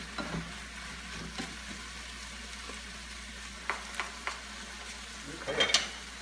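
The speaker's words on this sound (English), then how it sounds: "I've got this on high as I'm spinning it around and turning it and mixing all the ingredients together" Collard greens and yellow split peas cook over high heat in an Ethiopian-style dish, with a low steady sizzle under occasional scraping stirs and light clinks of a utensil against the pan.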